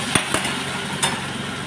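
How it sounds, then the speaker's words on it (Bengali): Spoon scraping and stirring chili, tomato and soy sauce in a hot pan, with a few sharp knocks over a steady soft sizzle, close and fairly quiet. "নাড়াচাড়া করতে হবে ভালো করে।"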